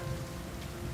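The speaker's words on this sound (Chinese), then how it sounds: "还下这么大雨" Heavy rain pours down in a dense, steady hiss of drops striking the ground, continuous and fairly close throughout, with no voices or other sounds.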